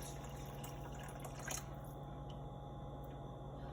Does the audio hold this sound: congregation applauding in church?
no